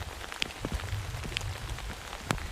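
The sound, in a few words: rain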